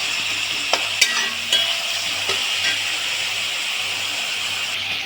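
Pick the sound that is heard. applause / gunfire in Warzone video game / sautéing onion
sautéing onion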